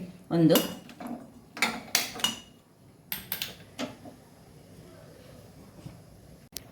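A metal frying pan clanks down onto a stove with a few sharp knocks and scrapes, close by, followed by quieter kitchen rattles.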